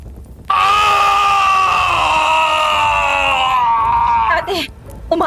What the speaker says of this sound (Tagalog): Pumunit ang sigaw nito sa hangin.